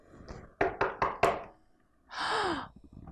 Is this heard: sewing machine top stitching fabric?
no